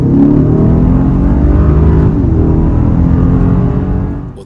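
A 2024 Mercedes GLS580 V8 luxury SUV accelerates hard, a loud, close, deep engine roar with rising tone that holds steady and then eases off at the end.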